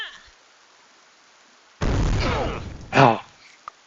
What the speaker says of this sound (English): play the explosion sound